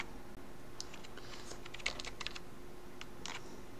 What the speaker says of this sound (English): you can type a letter and press the enter key like this